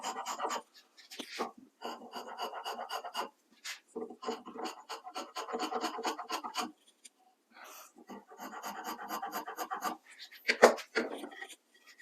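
Hand tool rasping a small chamfer into the top edge of a wooden ladderback chair front leg, with repeated scraping strokes in short bursts separated by brief pauses, close and moderately loud.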